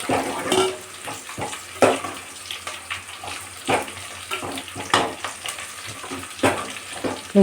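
Freshly cut chicken gravy ingredients frying in hot oil, a steady close sizzle with repeated stirring scrapes and clatters of a spoon in the pan, no voices.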